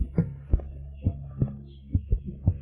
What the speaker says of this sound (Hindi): दिल की धड़कन इतनी तेज